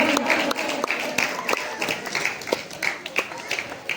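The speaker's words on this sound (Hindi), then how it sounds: "जोरदार तालियां हो जाए" An audience at a Mr and Miss Campbell Bay winner announcement applauds the first runner-up, a scattered burst of clapping with sharp hand taps over a noisy hall, moderately loud and fading a little.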